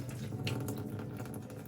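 Hot water from cooked lentils pours into a sieve in a kitchen, a steady gushing, splashing stream heard up close and fairly soft.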